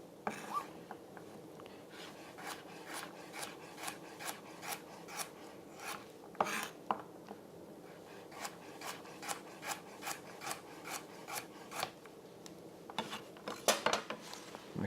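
Knife cutting thin slices from a quartered carrot on a chopping board in a practical cookery lesson, a steady run of crisp, close taps spaced evenly, with short pauses between bursts.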